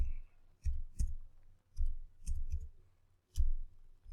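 Computer keyboard keys clicking in short irregular bursts, close and fairly quiet, with brief pauses between clusters of keystrokes.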